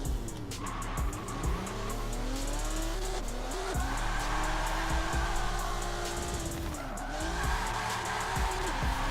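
Mitsubishi GTO with a 700 hp build drifting in Forza 7, engine roaring continuously with revs rising and dipping while tires squeal and skid through long slides.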